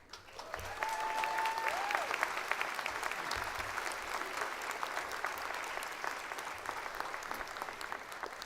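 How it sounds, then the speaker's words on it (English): Audience at a college commencement ceremony breaks into sustained applause, a steady wash of many hands clapping that swells and slowly fades, with a few voices underneath. "Please give them another round of applause."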